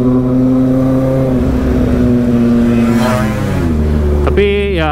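Kawasaki ZX25R motorcycle fitted with an aftermarket exhaust header idles with a steady, loud drone, then rises in pitch as the throttle is blipped and swells to a sharp, high rev near the end.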